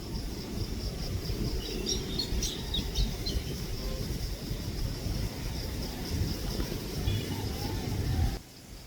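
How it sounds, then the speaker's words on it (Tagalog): A bird chirps in short, high twittering bursts over a busy outdoor background of rustling and ambient noise at a rainy goat farm, fairly faint and scattered through the first half. "May ibon tayo guys."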